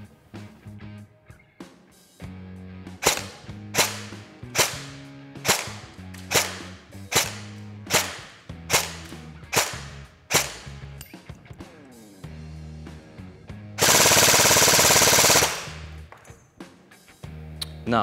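An E&L ELAK12 airsoft assault rifle replica, powered by an 11.1 V battery, fires 0.2 g BBs in a chrono test: about a dozen sharp single cracks at a steady pace, then one rapid full-auto burst, close and loud.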